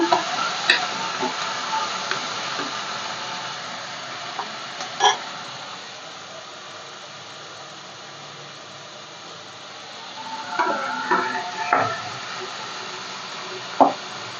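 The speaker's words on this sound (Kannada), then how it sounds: "ಈರುಳ್ಳಿ ಚೆನ್ನಾಗಿ ಫ್ರೈ ಆಗೈತೆ ಇವಾಗ ಕಾಳು ಇದ್ದೀನಿ ಕಾಳು ಮಿಕ್ಸ್ ಮಾಡ್ಕೊಳ್ಳೋಣ" Lentils being stirred into fried onions in a pan for Kannada mixed-dal sambar: a soft continuous sizzle with occasional spoon scrapes and clinks against the pan, close and fairly quiet, no voices.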